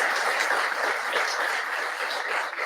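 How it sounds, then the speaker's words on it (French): Audience applause for an award winner at a ceremony with the prime minister present, a steady wash of dense clapping from a large crowd, even and sustained without speech. "On l'applaudit très, très, très fort"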